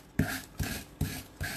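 Sandpaper is rubbed by hand over a wooden box in four even, rhythmic rasping strokes, close and soft.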